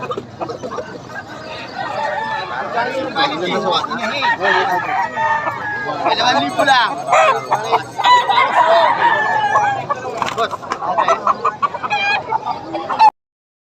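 Chickens cluck and crow nearby in a busy, overlapping chorus, loud and steady, while someone speaks briefly.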